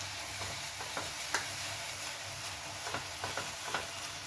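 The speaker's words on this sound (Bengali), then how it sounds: "টক দইটা দেবার পর আর একটু ভালো করে কষিয়ে নেব।" Spice paste with sour yogurt for a prawn curry sizzles quietly in a pan, a soft, steady frying hiss broken by light scraping strokes of a spatula as it is stirred.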